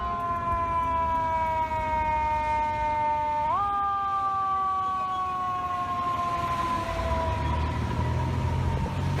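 A fire engine's wailing siren sounds loud and close, a steady tone that bends in pitch partway through, with traffic rumbling beneath it.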